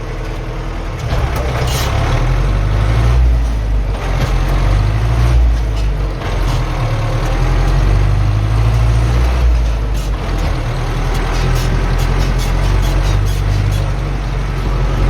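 A farm tractor engine running during seeding in gusty wind, a loud, steady low drone throughout with rumbling wind buffets and no pauses.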